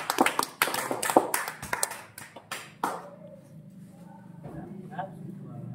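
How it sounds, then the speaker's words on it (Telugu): A classroom of students claps for a classmate during an engineering drawing lesson, with a burst of uneven, fairly close hand claps for about three seconds that then fades as a voice speaks. "పెట్టి క్లాప్స్ కొట్టండి పిల్లవాడికి."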